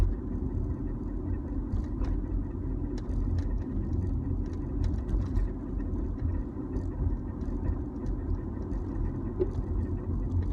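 Steady low road rumble and tire noise from inside a 2003 Honda CR-V coasting at about 30 mph, an even drone throughout with no engine revving and no voices.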